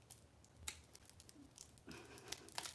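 Scissors jab and push through a material in faint, close crinkling and tearing bursts, a few sharp snaps scattered across a quiet background.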